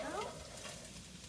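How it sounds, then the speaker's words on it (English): Brief crackling sizzle of vegetables frying in a hot pot for chicken and barley soup, close and fairly quiet, with a soft stirring scrape at the start. "get a nice sizzle. That means you're nice and hot."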